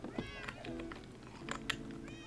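Cats meowing in a Minecraft survival multiplayer world, several short in-game meows scattered across the moment, close and fairly clear over a low background hum, with a bit of faint talk mixed in.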